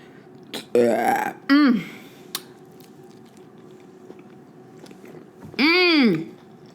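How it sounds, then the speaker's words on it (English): Several loud, voiced burps during an Ethiopian food meal of awaze beef tips, two close together early on and another long one near the end, amid quiet chewing sounds. "I needed that burp."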